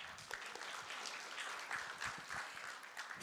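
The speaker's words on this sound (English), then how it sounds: "please give yourself as well as people around you a big round of applause" At the opening of a high-level ransomware panel in Singapore, an audience gives a round of applause. Brief, moderately dense clapping fills the room, with a few louder bursts.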